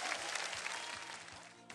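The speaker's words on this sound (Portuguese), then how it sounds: "vamos receber o apóstolo com um brado de júbilo, um sorriso e um aplauso para Jesus" Fairly faint applause from a church congregation at an Assembly of God service, a steady wash of many hands clapping that holds for a moment and then tapers off.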